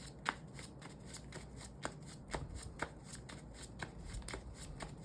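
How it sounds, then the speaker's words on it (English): Yu-Gi-Oh trading cards being shuffled by hand, a close, quiet run of soft riffling flicks and slaps in an uneven rhythm, with no talking. "Shuffle, shuffle, shuffle."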